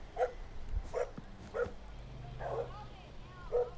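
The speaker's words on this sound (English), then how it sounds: "So that's the dog that I've been hearing for the last 5 minutes." A dog barks repeatedly outdoors in a parking lot, five or six sharp yips spaced roughly evenly, fairly distant and moderate in volume over low background noise.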